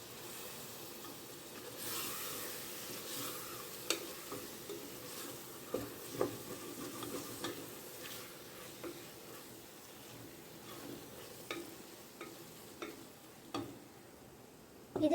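A spoon stirs green chillies, coriander and mint in a mushroom biryani pot set in a pressure cooker, with a soft low sizzle under scattered clinks and scrapes, quiet and close.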